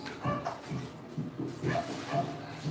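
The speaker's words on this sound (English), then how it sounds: "So you hear dogs" Dogs bark and yelp in short repeated bursts somewhere in the Philippines, moderately close and fairly loud against a dim background hum.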